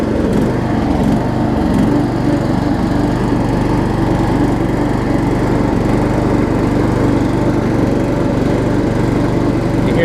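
Troy-Bilt Horse riding mower with a Kohler Courage engine idling after a warm start, a steady close droning engine with a slight rhythmic surge in its running, no voices.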